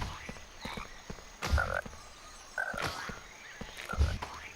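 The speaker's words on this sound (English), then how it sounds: "look how many frogs there are" Frogs croak repeatedly in the Harry Potter and the Philosopher's Stone PS1 game, a chorus of short rasping calls and low ribbits spaced through the clip, close and clear, with no talking.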